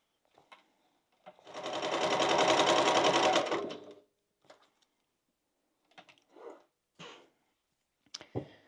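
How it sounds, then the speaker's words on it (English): Sewing machine basting across the top of bag pieces, one steady whirring run of rapid stitching lasting a couple of seconds, close and clear, followed by scattered handling clicks and rustles. "I'm going to line those pieces up, and I'm simply going to baste across the top"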